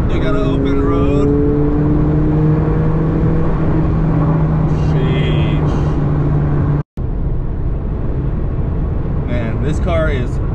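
A McLaren 720S sports car with a 700+ hp engine driving fast on an open road, a loud steady engine and road roar from inside the cabin with a brief cut, as people talk over it.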